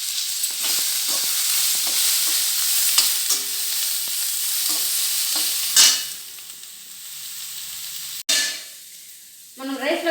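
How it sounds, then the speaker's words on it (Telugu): Cinnamon, cloves and cardamom sizzle steadily in hot oil in a pan, a continuous frying hiss with occasional stirring scrapes, ending with a brief voice. "ఇలాగే వేగితే చాలు, లైట్గా బ్రౌన్గా అయితే చాలు."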